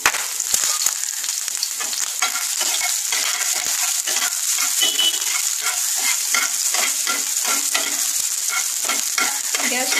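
Onion sizzling in white cooking oil in a pan, a loud, close, continuous crackling hiss with stirring scrapes mixed in throughout, no voices.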